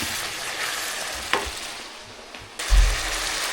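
Food frying in a pan while being stirred: a steady sizzle, faint scraping strokes and a sharper clatter near the end, close up with no voices.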